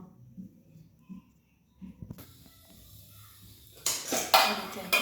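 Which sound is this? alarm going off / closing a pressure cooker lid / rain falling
closing a pressure cooker lid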